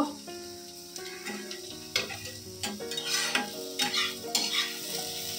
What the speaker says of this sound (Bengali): আলু পেঁয়াজ ভাজাটা